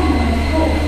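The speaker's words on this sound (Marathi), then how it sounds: "इली इली ट्रेन इली आहे आपली" A train pulling into a station in the Konkan: a loud, close, steady low rumble and droning hum with no distinct clatter, lasting under a second.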